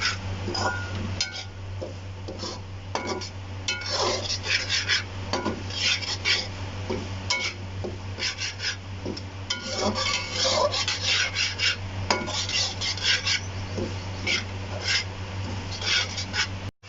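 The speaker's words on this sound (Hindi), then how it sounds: "हल्की आंच पे मुसलसल ये चम्मच हिलाते हुए इसको भूनना है अच्छे तरीके से।" A spoon scrapes and rasps steadily against a pan as semolina roasts over low heat for suji halwa, with repeated clinks and stirring strokes over a constant low hum.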